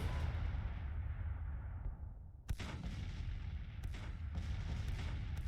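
Artillery fire on a Civil War battlefield in the Union campaign of Grand Tactician: a continuous low rumble of distant cannon broken by several sharp, louder booms, with no talk.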